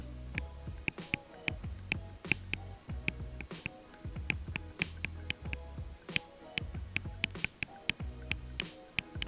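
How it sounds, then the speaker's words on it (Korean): A pen writing on an iPad fitted with a basic screen protector film, heard up close as a steady stream of sharp, rapid tapping clicks with no talking. "한번 필기 소리가 어떻게 들리는지 한번 잘 들어보세요."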